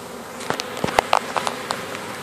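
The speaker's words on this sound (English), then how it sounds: "bees are bees. They're going to try to sting a little bit." Honeybees buzzing in a top bar hive during a removal, a string of short, close buzzes and flyby whines with brief gaps between them, fairly quiet, with no talk.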